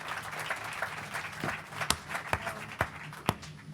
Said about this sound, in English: Maybe a little applause for them first and foremost